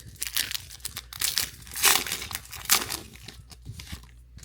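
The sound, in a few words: tearing open a 2026 Topps Chrome trading card pack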